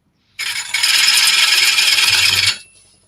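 Carved wooden piece being hand-shaped, a close, brisk rasping or scraping stroke of about two seconds with a short bump partway through, then quiet.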